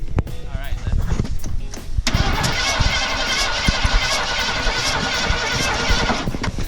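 A 1967 Ford F250 camper special engine cranks over steadily on the starter, a busy mid-range churn that starts abruptly and runs for several seconds after a brief stretch of low knocking and handling sounds.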